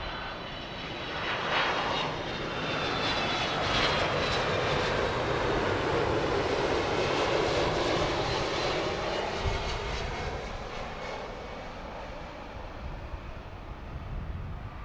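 A Boeing 767 jet at Heathrow Airport roars past in a long, broad rumble that swells and then slowly fades, with no talking.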